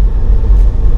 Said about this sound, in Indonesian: sekarang gue lagi cobain nih mobil M46